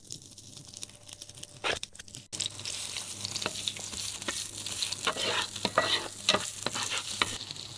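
Garlic, chili and ginger hit a hot pan, starting quietly and then breaking into a steady crackling sizzle with bursts of spatter and stirring scrapes, close up and without speech.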